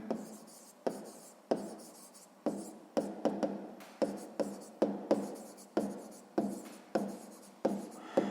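Pen on paper writes out a sixth-grade maths problem, a series of quick scratching strokes in short bursts with brief gaps between them.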